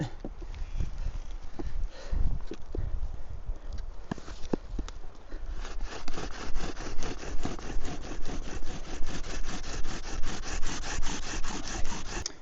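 Rhythmic wooden scraping and rubbing in winter, irregular at first, then fast and steady like a bow drill with a willow bowstring spinning hard against damp wood.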